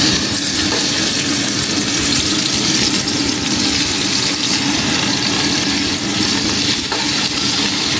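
Marinated beef tapa cooking in a pan gives off a loud, dense, continuous hiss and sizzle that stays even throughout, heard close with no voices.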